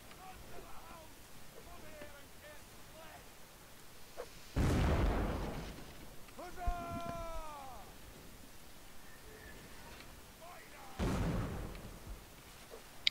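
Cannon fire in Mount and Blade Warband, the Napoleonic Wars multiplayer mode: two heavy booming blasts several seconds apart, moderately loud against a quiet background, with a sharp cat-like squealing cry between them.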